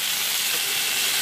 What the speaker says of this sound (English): Saute well.